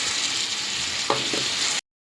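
Yogurt masala frying with browned onions in a pan, a dense continuous sizzle close up with a brief scraping stir near the middle, cutting off abruptly at the end; no voices.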